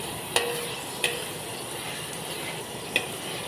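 Crushed ginger and garlic sautéing in a hot pan, a soft, low sizzle with three sharp clinks of a spoon against the pan spaced through it.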